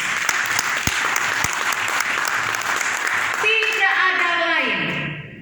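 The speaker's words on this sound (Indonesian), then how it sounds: "Tepuk tangan buat Tuhan" Steady loud applause from a large crowd fills the room, then a voice begins speaking as the clapping fades away.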